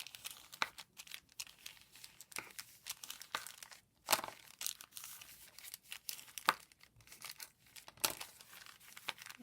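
Paper lunch bag folded and creased by hand into a tri-fold journal, giving close, repeated crinkling and crisp crackling bursts in an irregular rhythm, with brief quiet gaps between folds and no talking.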